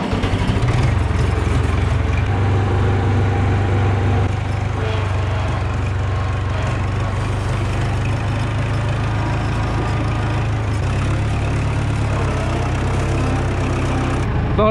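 Hydrostatic International 84 tractor engine starting up and running at a steady, loud diesel idle, a continuous low rumble from nearby with no talking.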